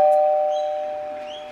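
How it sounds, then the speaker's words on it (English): A single electronic doorbell chime rings out, a steady clear tone that slowly fades over a second and a half, with no voices. "Okay, I'm ringing the doorbell now."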